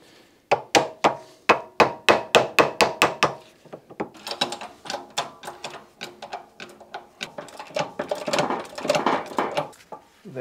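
Sharp metal hammer blows ring out on a wheel bearing part of a Citroen CX GTi being bent into place: a quick, even run of about a dozen strikes, then a looser, more irregular flurry of taps, all close and without talk.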